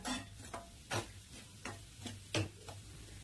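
Leftover chapati pieces roasting in ghee in a pan, with quiet, close stirring scrapes and soft sizzling that pulse in a loose rhythm of several strokes.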